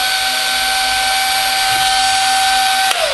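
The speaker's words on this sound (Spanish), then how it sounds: "como veis, el taladro está modificado" A cordless drill modified to run on a motorcycle battery runs at a constant high-pitched whine, loud and close, then abruptly winds down near the end.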